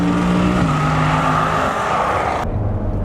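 A Chevrolet Corvette C7 Grand Sport on a racetrack with the Targa top off, its engine roaring loudly at high revs with shifting tone, then dropping off abruptly near the end.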